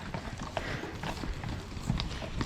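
Hooves clip-clop on the ground as horses trot past at a Max Enduro mountain bike event, a busy, uneven patter of hoofbeats close by, with faint voices in the background.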